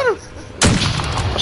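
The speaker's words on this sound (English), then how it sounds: "I sniped him!" Sniper rifle shot in Warzone: a single loud, sharp report that cuts in abruptly after a brief quieter moment, followed by a sustained noisy rumble and echo.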